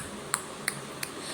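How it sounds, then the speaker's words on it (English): Hydrogen gas, given off by a metal reacting with acid, pops as a burning matchstick is brought to the container's mouth: three short, sharp, fairly quiet pops spaced about a third of a second apart. "If you bring a burning mastic close to the mouth of container, you will hear pop sound like this,"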